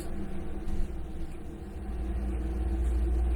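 A road-cleaning truck passes on a street, its low engine rumble swelling and growing heavier toward the end as it draws nearer, with no talking over it.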